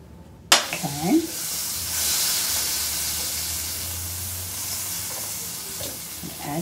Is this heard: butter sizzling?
yes